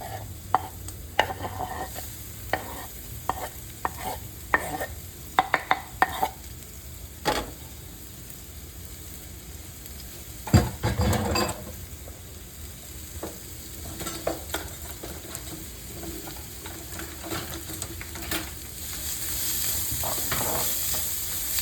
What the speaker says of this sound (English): Next we're adding garlic, ginger, and the onion.